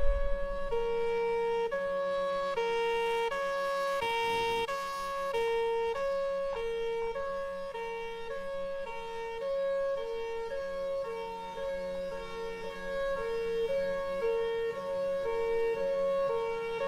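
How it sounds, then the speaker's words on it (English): Several siren sounds play at once during a live stream, overlapping tones that rise and fall in stepped, wailing patterns, loud and continuous with no speech. "Everyone just like playing their sirens everywhere."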